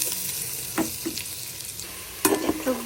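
A generous handful of chopped garlic hits hot oil with a loud close hiss and sizzle, punctuated by a few sharp knocks of a spoon against the pan.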